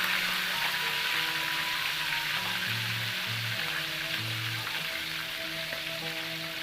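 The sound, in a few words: frying marinated chicken (ayam ungkep) in oil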